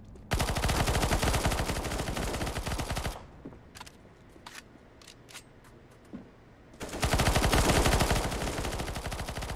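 Rapid, continuous bursts of automatic submachine gun fire from a Bizon in Counter-Strike, loud and rattling, stopping for a few seconds of scattered single shots and clicks before another long burst.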